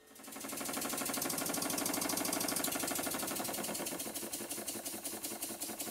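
A small model steam engine runs steadily after oiling, giving a fast, even chuffing and clattering rhythm that builds up within the first second and carries on alone at moderate level.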